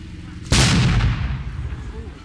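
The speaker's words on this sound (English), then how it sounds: "The captain called for a warning shot to assemble the men on the green." A single musket fires a warning shot, one sharp loud blast that booms out and decays with a rolling echo over a low background murmur.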